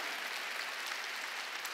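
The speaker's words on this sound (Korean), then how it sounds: "박수 치라 이게야." Church congregation clapping together during a Korean Sunday worship service, a dense, steady wash of applause filling the room for a couple of seconds without pause.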